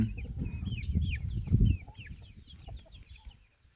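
At feeding time a flock of hybrid coop chickens clucks busily nearby, a thick low chorus mixed with repeated high chick peeps that thins out toward the end.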